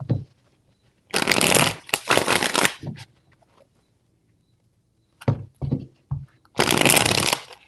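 Tarot cards riffled in three close, loud bursts of crisp papery flutter, with a few soft taps and handling thumps between them and near silence in the gaps.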